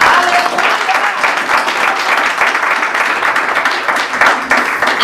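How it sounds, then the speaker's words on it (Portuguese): Congregation in a church breaking into loud, sustained applause, dense clapping from many hands filling the room with a few voices mixed in, steady and unbroken from start to finish. "As palmas do Senhor."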